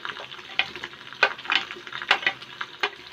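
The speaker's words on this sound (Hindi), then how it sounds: "लहसुन और मिर्चों का जो पेस्ट लिया है वो इसमें डालते हैं।" Garlic and chili paste sizzles and spits in a hot pan with browned chicken feet for a curry, crackling bursts rising and falling over a low frying hiss, close and fairly quiet.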